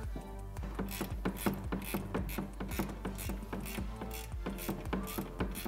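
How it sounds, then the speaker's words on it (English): A hand ratchet tightens the shock bolts on a Jeep Gladiator during a front leveling kit install, giving a fast, steady run of crisp metallic clicks with brief pauses between strokes, heard close and alone. "Then we'll get all these shock bolts tightened down."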